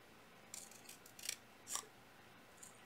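Scissors cutting out a paper stained glass template: a few quiet, scattered crisp snips close by against a faint hiss, with no talk.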